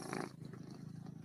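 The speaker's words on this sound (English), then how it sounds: "Oh, you got a cat." A neighborhood cat purrs close by in a quiet setting, a soft steady rumbling purr with a regular pulsing rhythm, alone and faint.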